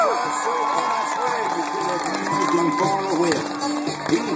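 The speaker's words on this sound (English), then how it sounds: "let's give them a big round of applause" Crowd applause and cheering at a 1st Cavalry mounted demonstration, many voices whooping and shouting together with clapping, fairly loud and sustained.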